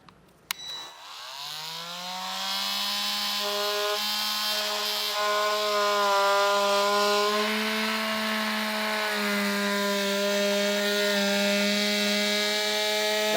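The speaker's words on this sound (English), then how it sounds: "I'm going to use a multi-tool to cut this out" An oscillating multi-tool cutting out a section of car bumper panel during a hidden trailer hitch install on a 2017 Volkswagen, a steady high buzzing whine that starts after a brief click and holds close and loud.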